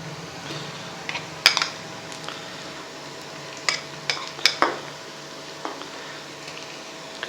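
Onions frying with ginger garlic paste in a pot for chicken korma, a soft steady sizzle with several sharp scrapes and clinks of a spoon stirring, close and alone.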